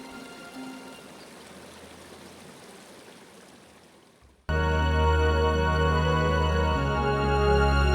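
Henry's Fork, a big spring-fed creek-like river with a couple of dams, rushes in a steady, soft broadband wash for about four seconds before loud music abruptly takes over for the rest.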